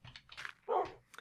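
A tamed wolf in the Minecraft video game gives a few short, quiet yips and one slightly fuller bark, all within about a second, with no talk over them.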